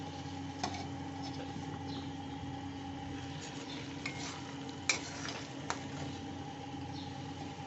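Paneer cubes stir-fry in a pan with red amaranth greens, a steady sizzle under slow turning, with occasional clinks and scrapes of a spoon against the pan.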